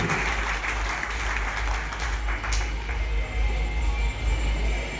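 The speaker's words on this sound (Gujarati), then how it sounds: "એને આપણે એકવાર જોરદાર તાળીઓના નાદ સાથે વંદન કરીએ" An audience claps in sustained, dense applause at a temple welcome ceremony for a Sardar Katha procession, a steady roar that holds for the whole stretch.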